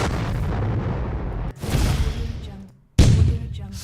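Stock sound-effect explosions: a rumbling blast that decays, a second boom fading into near silence, then a sudden loud third burst, all booming and close.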